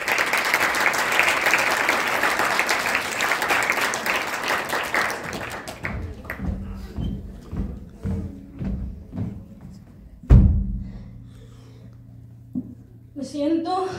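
An audience applauds loudly for a group of singers with guitar, a dense crowd clapping that fades after several seconds into scattered claps, a thump and a voice speaking.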